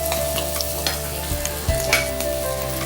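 Round-sliced small shallots sauté in a pan, a steady close sizzle under occasional scraping stirs and light clinks, with no voices.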